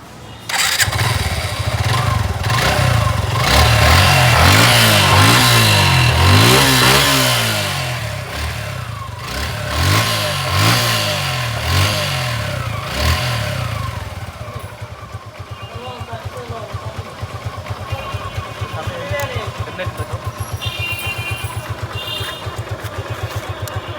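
A 2022 Suzuki Gixxer naked sports motorcycle starts up and revs hard in several rising and falling bursts, loud and close, then drops to a steady, rapidly pulsing idle.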